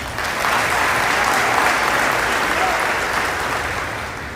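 A graduation-ceremony audience at a fire rescue recruit class claps in steady, dense applause that rises quickly, holds, then slowly fades.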